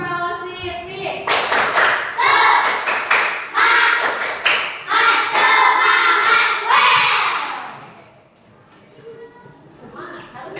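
Schoolchildren chant and clap together in a classroom: fast, loud volleys of hand claps with overlapping young voices. It then fades to a quieter pause near the end.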